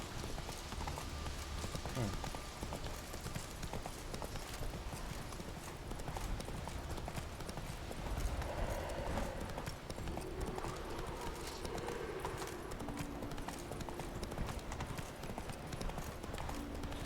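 Horse hooves gallop in The Witcher 3, a steady rhythmic clip-clop at moderate distance under the game's ambient sound, with a faint whinny and some quiet talk.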